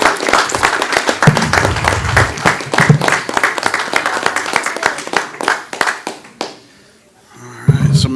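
A town council meeting audience gives a round of applause for award winners, dense clapping filling most of the stretch before a brief lull, then a fresh burst; someone speaks briefly over it.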